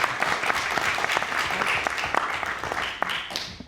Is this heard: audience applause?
yes